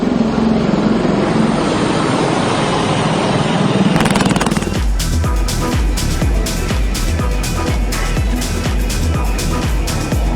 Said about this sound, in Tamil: இதில் இந்திய விமானப்படைக்கு சொந்தமான தேஜஸ், ரஃபேல் விமானங்களும் அப்பாச்சி, ஜாக்வார் உள்ளிட்ட ஹெலிகாப்டர்களும் சாகசங்களை நிகழ்த்தின.